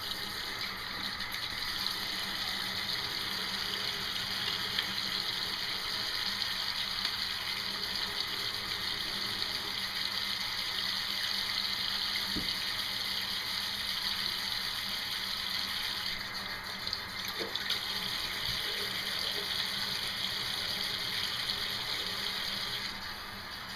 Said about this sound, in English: which is turn off water.